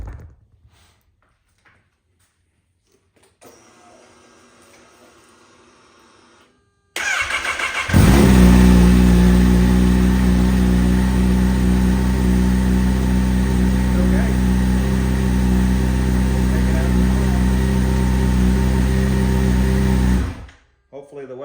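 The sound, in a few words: 2022 Kawasaki ZH2 motorcycle engine starting and running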